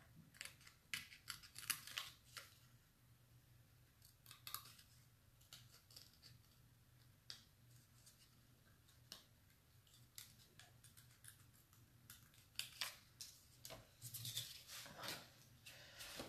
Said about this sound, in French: je finis de découper tout ça